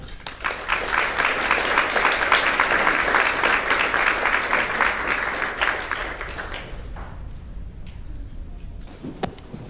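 An audience applauds to welcome a speaker at a glaucoma patient talk, a dense burst of clapping that swells for about six seconds then thins out to a few scattered claps.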